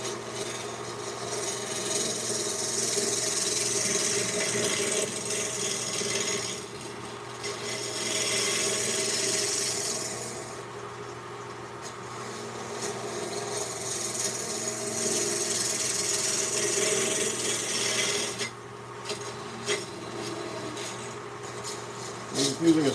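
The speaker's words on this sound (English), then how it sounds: "I'm just using a small spindle gouge here for this" A small spindle gouge cuts olive wood spinning on a lathe, giving a continuous rasping, scraping hiss that swells and fades in long passes with short pauses, steady machine hum beneath.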